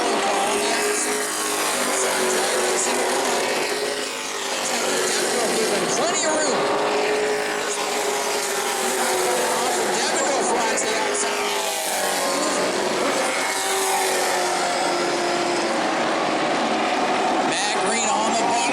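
Sportsman stock cars race at New Smyrna, their engines a loud continuous roar with rising and falling pitch as the pack runs close together, while a commentator talks over them throughout.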